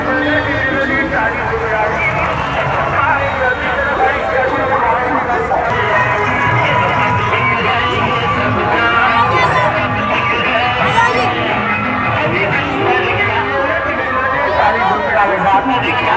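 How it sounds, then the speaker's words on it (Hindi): A dense crowd fills the Deoband fair at the Mata Bala Sundari Mandir, a continuous babble of many voices and general bustle, with a nearby voice speaking over the hubbub throughout. "आज मेले में बहुत ज़्यादा भीड़ हो रही है"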